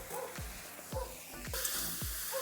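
Potatoes and taro stolons sauté in a pan over a village cooking fire with a soft, steady sizzle, while a spoon scrapes through them in regular strokes about every half second.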